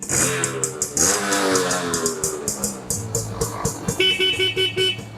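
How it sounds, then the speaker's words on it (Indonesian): A Yamaha 80 motorcycle's horn sounds in a run of short, loud, nasal toots, repeated several times up close, ending in a longer, sustained blast. "klaksonnya pun masih nyala, kondisinya sangat bagus"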